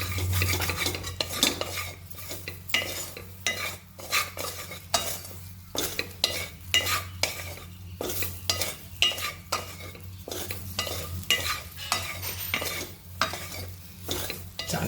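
A spoon stirs and presses gram flour into a paste in a pan, with repeated close scrapes and clinks against the metal over a low sizzle.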